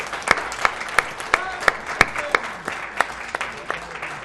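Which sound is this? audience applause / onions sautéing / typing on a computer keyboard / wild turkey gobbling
audience applause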